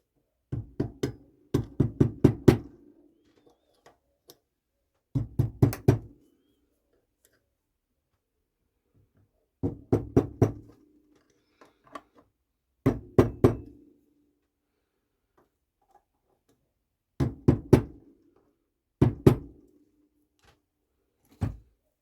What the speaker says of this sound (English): take your mallet again and a small screwdriver and just give the snap ring a little bit of a tap